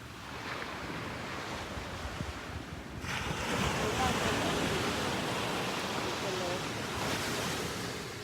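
Sea waves at a beach in Santa Barbara around sunset, a broad steady roar of surf mixed with gusty wind buffeting the microphone, swelling louder after a few seconds and holding.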